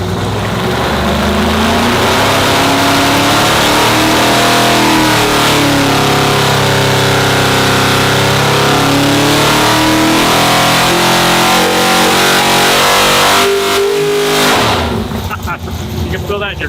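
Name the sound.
1,000 horsepower 632 big block engine revving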